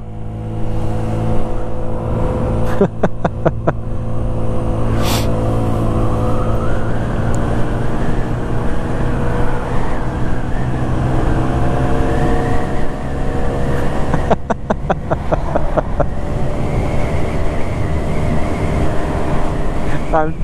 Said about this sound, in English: Top speed run, here we go. Wide open throttle.